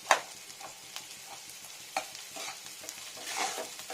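Garlic frying at full heat in a pan, a steady close sizzle under repeated light stirring scrapes and taps, with no talking.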